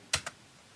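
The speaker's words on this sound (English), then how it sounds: "I really shouldn't type and talk at the same time." Two quick, crisp keystrokes on a computer keyboard sound close and quiet against a near-silent room, during desktop customisation of Ubuntu 12.04.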